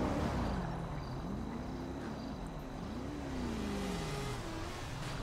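In GTA, a vehicle pulls a wheelie with a steady engine drone that revs up and down in pitch several times. It sounds fairly faint and a little distant, with no talking.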